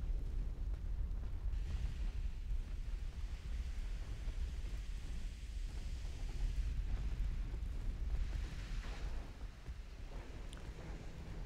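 Rumbling blasts of exploding warships in the naval battle game Ultimate Admiral Dreadnoughts, a dense, continuous low roar with swelling booms, heard without talk.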